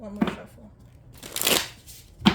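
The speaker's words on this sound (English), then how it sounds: "One more shuffle." A deck of tarot cards is shuffled for a reading, with soft riffling flutters in a few quick bursts, close and fairly quiet, and no talk over them.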